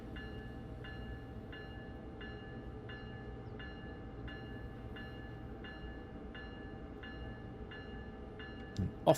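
A train runs in the Train Sim World 2 video game, with a steady low rumble and a regular, rhythmic clatter of wheels over rail joints at low volume, ending in a couple of sharp bumps.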